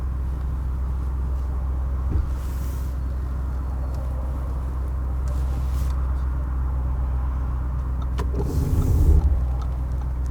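A 2021 Audi RS Q8 drives with a steady low engine rumble and road hum inside the cabin, fairly quiet and even, with a few faint clicks and a short rustle near the end.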